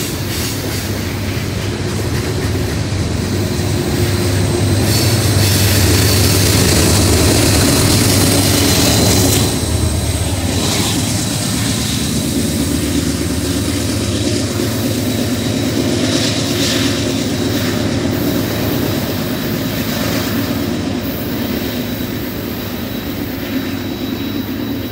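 A freight train with a DPU locomotive on the rear works hard climbing a hill, its loud continuous engine drone and rolling wheel rumble passing close by with faint metallic squeals.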